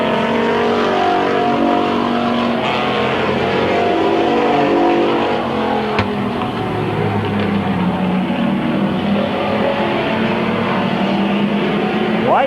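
Race cars roar around the oval at Midvale Speedway, several engines droning and rising and falling in pitch as they pass, loud and continuous for the whole stretch, with a faint trace of speech in the background.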